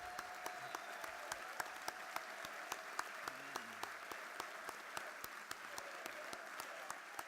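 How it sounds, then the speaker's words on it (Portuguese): Applause at a party congress: a large hall crowd claps steadily for the whole stretch with sharp, regular individual claps standing out from a dense wash, and a faint voice murmurs underneath. "Um grande aplauso para ele."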